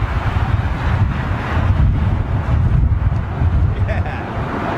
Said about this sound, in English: it is quite blustery up here